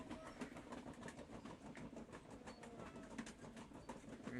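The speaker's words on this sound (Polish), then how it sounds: "Kolejka górska." A roller coaster ride in the horror video game Horror Tale 2 makes a steady rattling clatter of cars on track, continuous and fairly loud throughout, with faint bird-like chirps in the background.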